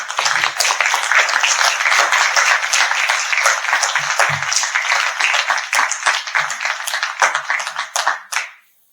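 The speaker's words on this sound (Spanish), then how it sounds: "le ofrecemos un aplauso otra vez al doctor." A conference audience applauds at the close of a keynote lecture, steady dense clapping that holds for several seconds and then ends abruptly, with a few brief voices mixed in.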